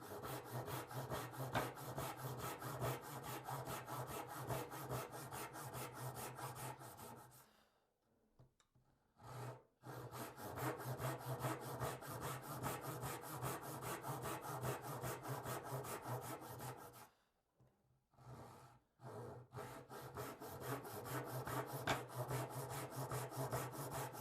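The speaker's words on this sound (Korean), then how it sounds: "요 부분은 1mm 간격으로 톱질 연습을 해보는 겁니다." A hand saw cuts wood for practice, making kerfs at 1 mm intervals. Steady, rapid back-and-forth rasping strokes sound close up, broken by two short pauses between bursts of cutting.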